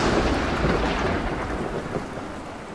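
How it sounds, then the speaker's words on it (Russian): Deep rumbling thunder rolls continuously from a storm in a Minecraft zombie apocalypse world, thick with broad low-end roar and a hissing rain-like wash, loud and steady with a slight swell near the end; no voices. "Я смог взорвать С4, когда шандарахнула молния"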